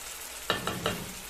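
Sliced chicken liver lands in a hot pan, setting off three quick bursts of sharp sizzling over a low background hiss, close and fairly quiet, with no talking.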